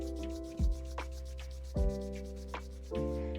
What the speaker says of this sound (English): I'm going to just rub my palms together here,